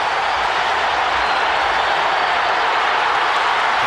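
A stadium crowd at the 2000 Concacaf Gold Cup football match between the USA and Haiti gives off a steady, dense roar of cheering that holds evenly throughout with no break and no talk.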